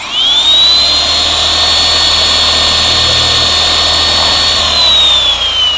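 A loud, steady high-pitched motor whine from an electric car polisher that rises at the start, holds evenly for several seconds, then winds down slightly.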